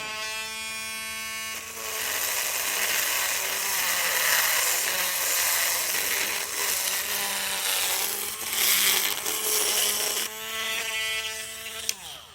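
A small electric drill whines steadily against the pointed end of an egg from an incubation, a sustained high buzz that starts and stops abruptly and wavers slightly as it bores through the shell.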